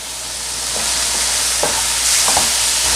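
Chopped tomatoes go into a hot pan and set off a loud, even sizzle, with a few soft stirring knocks. The cooking is for a chicken karahi and nothing else is heard.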